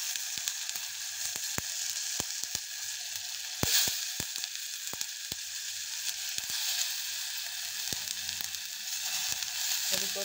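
Potatoes and tomato sautéing in a pan for a Marathi batatyachi bhaji, a steady close sizzle and fry with scattered sharp pops and crackles throughout.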